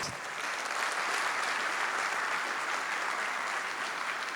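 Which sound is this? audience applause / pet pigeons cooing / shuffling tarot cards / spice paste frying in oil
audience applause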